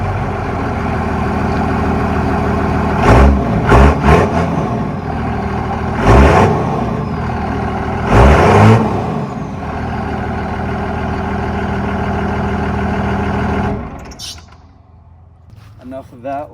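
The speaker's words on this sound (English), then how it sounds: "Give these trucks a little start and an exhaust note for all of you to hear." A heavy diesel truck engine starts and idles steadily, with a few sharp revs rising and falling over its rumble before it cuts off near the end.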